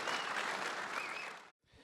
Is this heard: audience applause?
yes